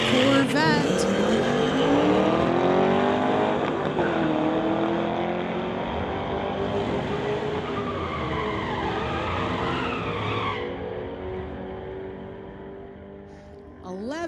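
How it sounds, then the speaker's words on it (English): A 2019 Ford Mustang and a Corvette launch side by side at a street-legal drag race, engines roaring loud and close with rising revs and tire noise, a voice talking over them before the sound fades toward the end. "2019 Ford Mustang, going against Harry Witter in that Corvette"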